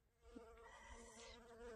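A bee hovering close by in the sun gives a steady, droning buzz that wavers slightly in pitch, soft but continuous and unaccompanied by speech.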